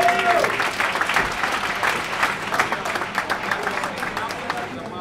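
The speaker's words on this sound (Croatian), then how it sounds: "Molim vas, jedan aplauz za Lili." A large audience at the Mega Muzika Awards 2018 music ceremony claps in a dense, steady roar of applause for an introduced speaker, lasting throughout at an even loudness with a voice briefly heard.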